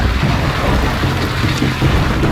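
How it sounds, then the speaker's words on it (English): Heavy thunderstorm rain at a mountain campsite near Creede, Colorado, a loud, dense roar of pelting drops with gusty, rumbling low noise throughout and no talking. "the rain is like bullets, for real."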